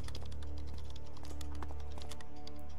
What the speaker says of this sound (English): Ugh, even with the typing noises.